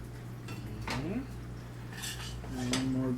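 Pasta is tossed and stirred in a pan with a utensil, giving metallic scrapes and clinks over a low steady kitchen hum, close and moderately quiet.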